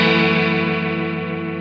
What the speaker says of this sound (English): The Strymon Mobius. And let's hear what one of the sounds sound like.